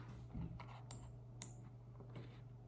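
Typing on a computer keyboard while building in Roblox Studio, with soft, quiet, irregular key clicks over a steady low hum.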